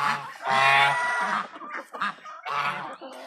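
A goose honks loudly and close by in a farmyard, a long harsh honk followed by several shorter broken honks and another long call.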